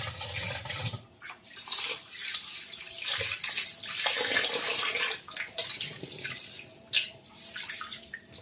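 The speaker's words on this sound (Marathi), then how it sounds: "चोळून चोळून असे धुवून घ्यायचे चार पाच पाण्याने" Rice being swished and rubbed in water, with continuous sloshing and splashing close by and a sharp splash near the end.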